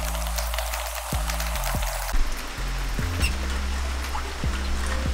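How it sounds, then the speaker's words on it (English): Rainwater pours from a downspout drain into a water storage barrel during moderate rain, a steady continuous splashing and trickling with brief gurgling shifts, fairly close and alone without talk. "As you can tell, water is flowing from the drain into the water barrel."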